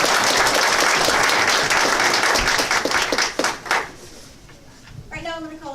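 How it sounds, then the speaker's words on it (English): Applause for newly naturalized United States citizens at a ceremony in a library, loud and dense clapping from a crowd that fades after about four seconds, followed by a voice speaking. "Just would like to give you another round of applause"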